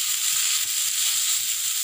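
Orange peel sautéing in a hot pan for a pickle, with a steady bright sizzle and hiss running throughout, close and fairly loud, with faint stirring scrapes underneath.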